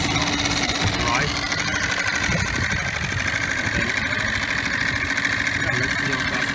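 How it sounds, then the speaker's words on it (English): Coleman 2.6 HP four-stroke outboard motor running just above idle, a loud, steady close-up engine drone with a fast even pulse throughout. "So here's the motor throttle, obviously just above idle speed."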